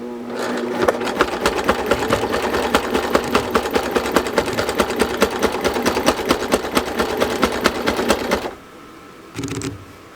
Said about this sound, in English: back into the fabric, and I continue sewing.